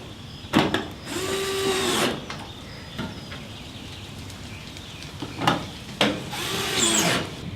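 Power screwdriver drives two Phillips screws into the clips of a tail light on a 1998 Sierra truck, two separate whirring bursts with short pauses and clicks between them, close and loud.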